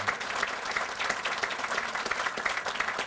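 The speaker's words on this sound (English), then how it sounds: "give him a great round of applause" Crowd applause at a factory groundbreaking ceremony, dense continuous clapping from many hands at a moderate, even level, with no speech over it.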